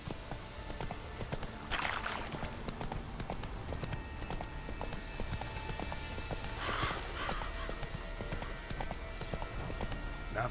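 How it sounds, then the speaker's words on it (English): Horse hooves clip-clop steadily as the steed Roach gallops in The Witcher 3 video game, a continuous rhythmic beat over ambient game sound, with a couple of brief louder whooshes. "Not so fast, Roach."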